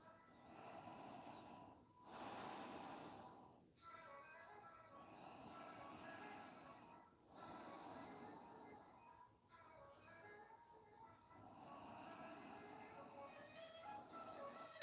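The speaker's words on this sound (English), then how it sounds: "breathing through your nose" Slow, steady nasal breathing during a quiet yoga session, several long airy inhales and exhales in a regular rhythm, close and soft with no talking.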